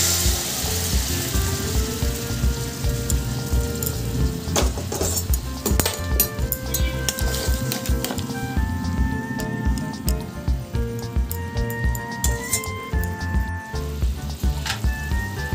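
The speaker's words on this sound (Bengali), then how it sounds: "একটু হালকাভাবে ভেজে নিতে হবে।" Amla gooseberries lightly frying in a pan for pickle, a sustained close sizzle with bursts of crackling and spatter, intermittent scraping, and no voices.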